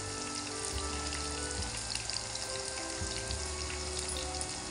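Fish pieces fry in hot oil in a pan, giving a continuous dense sizzle and crackle with a low bubbling undertone throughout, fairly loud and steady with no talking.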